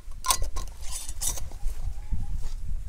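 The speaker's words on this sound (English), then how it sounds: "Now we'll put the lid on." A metal lid set onto a pint canning jar of raw bear meat, giving a couple of close, bright clinks and light scrapes in a quiet kitchen.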